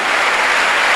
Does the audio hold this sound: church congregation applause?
yes